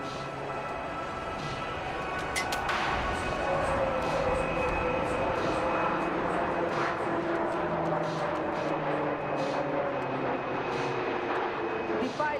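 Indian Air Force Sukhoi and Tejas fighter jets fly a loop at an air display, a sustained roar that swells and shifts in pitch as they pass, with a commentator talking over it.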